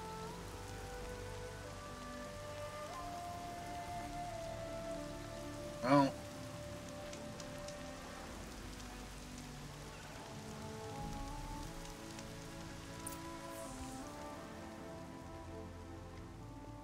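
Steady rain pattering on surfaces in the Horizon Zero Dawn video game, a continuous even wash beneath a soft game music bed, with one brief louder knock near the middle and a faint voice murmuring once.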